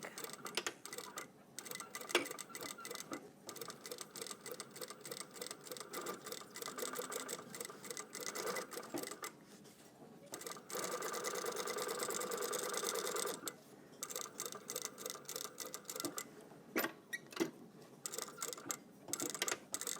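A sewing machine stitches a seam through trouser fabric with denim, running in dense rhythmic bursts with brief pauses and a back tack, close and steady with no talk.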